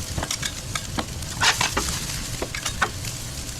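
Onions and peppers sauté in fat rendered from ribeye, a close, even sizzle with scattered scrapes and taps of stirring in the pan, no voices.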